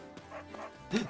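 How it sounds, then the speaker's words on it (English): A dog in the video game Fire Emblem Warriors: Three Hopes gives a short bark near the end, after a brief stretch of softer, whimpering dog sounds. "Dog!"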